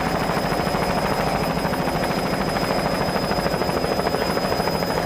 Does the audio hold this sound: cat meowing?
no